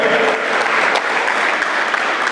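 A church congregation breaks into dense, steady applause, many hands clapping at once, loud and close, filling the space without a break.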